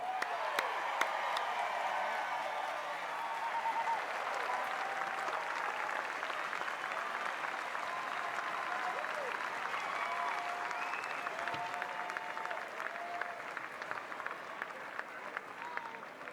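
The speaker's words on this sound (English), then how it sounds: "A round of applause, please, once again." Sustained audience applause at a mayoral inauguration in San Francisco, a steady wash of clapping from a large crowd that holds even for about sixteen seconds, with faint voices and cheers mixed in.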